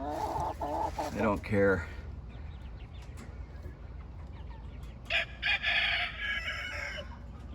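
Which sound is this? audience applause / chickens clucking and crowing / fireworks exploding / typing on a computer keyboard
chickens clucking and crowing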